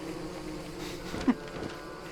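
Killer bees in the Don't Starve Shipwrecked video game give off a faint, steady insect buzz that drones quietly throughout, with one brief louder blip partway through.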